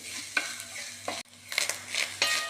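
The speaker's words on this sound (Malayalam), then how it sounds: "തേങ്ങ നന്നായി ചൂടായാൽ മതി, പൊരിഞ്ഞു വരണ്ട." Grated coconut dry-heating in a pan, stirred with a spatula: soft scraping strokes and gentle crackle at close range, a brief pause midway, no voices.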